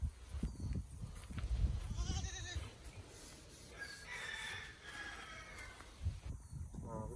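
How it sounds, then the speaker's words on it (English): Goats bleating on a farm plot in the Philippines, several calls rising and falling over a few seconds amid busy outdoor background noise, with a rooster-like crow mixed in. "goats doing their thing. They're happy."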